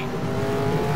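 Race car revving hard through a victory spin in a racing video game at Hidden Valley, a loud continuous engine roar with tire squeal layered over it for the whole second.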